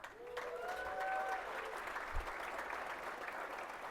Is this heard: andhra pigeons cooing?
no